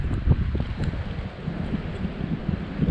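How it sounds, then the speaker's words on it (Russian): Strong wind buffets the microphone on a lakeshore fishing spot, a constant low roaring rumble with uneven gusty thumps throughout and no voices. "Но ветер, конечно, жестко."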